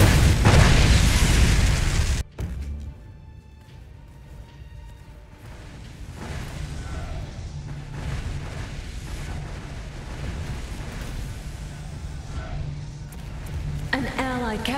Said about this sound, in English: An allied capital ship has been destroyed.